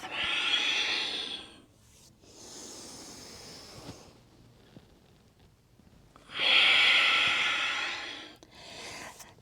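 Slow, deep breathing during a vinyasa yoga flow, with long breathy inhales and exhales rising and falling in a steady rhythm, close and fairly soft, with quiet pauses between breaths.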